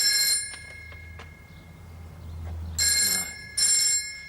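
A telephone rings in a women's prison drama, three short bright bursts of ringing with brief gaps between them over a low, steady hum.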